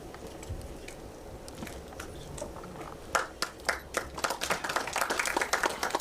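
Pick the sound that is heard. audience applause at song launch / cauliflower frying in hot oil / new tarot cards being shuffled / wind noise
audience applause at song launch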